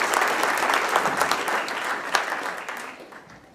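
Audience applause welcoming a guest speaker at a Columbus Rotary club meeting, a steady wash of clapping from a room of people that slowly fades toward the end.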